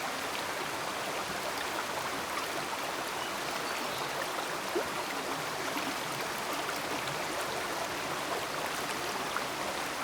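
Water steadily poured into a jar of gathered pine needles to steep evergreen tea outdoors in a forest, a continuous close trickling wash with no talk over it.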